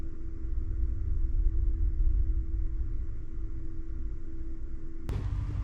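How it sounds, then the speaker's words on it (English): Deep, sustained rumble of thunder from an approaching storm under heavy cloud cover at a truck camper, rolling steadily for several seconds before a brief sharper crack near the end. "a thunderstorm rolling in, and there's just heavy cloud coverage all the way around"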